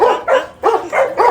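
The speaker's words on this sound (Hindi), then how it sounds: "तू क्यों भौंक रही है, तेरा तो घर था ये।" A Rottweiler barks indoors in four quick, close, loud woofs with short gaps between them.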